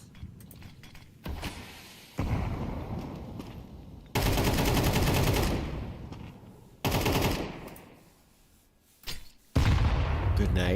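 Counter-Strike match audio with bursts of automatic gunfire and sharp rifle shots, including an AWP sniper rifle, coming in loud, dense blocks separated by brief quieter gaps.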